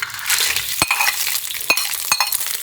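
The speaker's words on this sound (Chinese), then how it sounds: "锅烧热，下油，然后把蟹壳倒进去" Crab shells crackle and sizzle in hot oil in a wok, with steady frying hiss broken by sharp stirring scrapes and clatters at intervals.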